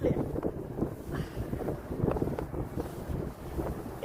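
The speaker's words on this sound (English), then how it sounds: "Pretty windy today, unfortunately." Gusty wind buffets the microphone, producing a low, uneven rumbling roar that swells and eases throughout.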